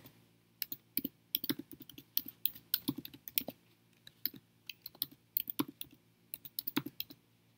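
Someone types an email address on a computer keyboard to sign in, a string of crisp, close key clicks in quick irregular bursts with short pauses, and no voices.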